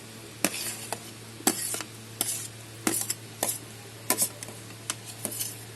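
Chopped vegetables for daal (green chili, beans, peas, carrot) are added and stirred in a pan, giving repeated scraping, clattering stirs over a steady low hum with a light sizzle, close and fairly loud; no talking.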